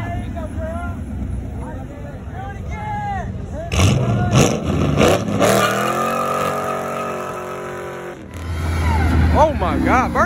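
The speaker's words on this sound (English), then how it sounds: "Do a burnout. Burnout." A car at a large Michigan car meet revs and spins its tires in a burnout, the engine roaring loud and close as a crowd shouts and chatters around it.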